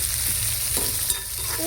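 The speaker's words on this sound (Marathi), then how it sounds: "कांदा आणि टोमॅटो छानपैकी परतून घेतले" Onion and tomato stir-fried in a pan for a quick pumpkin vegetable dish, giving a steady close sizzle with a few scraping stirs and no talk.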